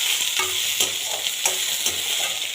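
Steady sizzling of a chopped onion frying in a pan, with occasional scraping stirs cutting through the constant hiss.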